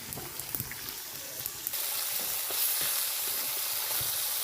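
Fish frying with garlic and chili on a clay stove, a hard steady sizzle that swells after the first couple of seconds and holds loud with faint stirring clicks, no voices.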